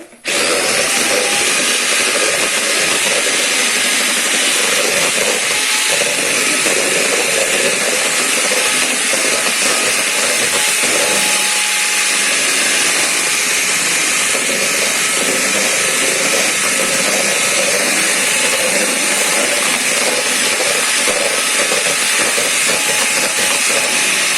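An electric mixer whisks sugar with egg whites and yolks, giving a loud, continuous, high-pitched whir that runs unbroken throughout with no talk.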